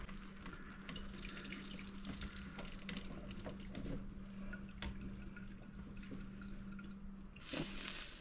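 Liquid being drained off cooked chili meat, a steady, fairly loud trickling pour that runs continuously and ends in a brief louder splash, no talk.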